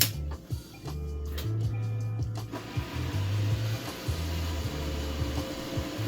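A Roomba robot vacuum cleaner runs close by, a steady motor drone with a rhythmic, pulsing low hum and a faint whir, heard alone with no voices.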